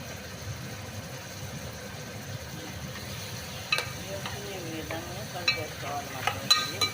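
Raw prawns stirred into a colocasia curry in a pan bring a low, steady frying hiss with occasional sharp utensil clicks and scrapes late on.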